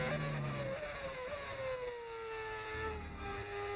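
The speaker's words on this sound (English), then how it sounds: "What a beautiful sound in the car." A high-revving Formula 1 racing engine in a video game, at the British Grand Prix, whines steadily, its pitch sliding slowly downward, loud and continuous with no voices.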